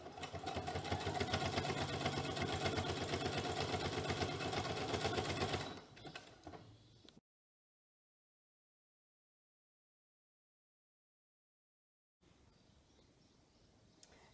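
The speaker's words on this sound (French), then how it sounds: "vous avez terminé de piquer votre poignet, voilà, sur votre manche" Sewing machine stitching a knit sweatshirt cuff onto a sleeve, a fast, loud, steady mechanical rattle that slows and stops, followed by silence and then faint handling noise.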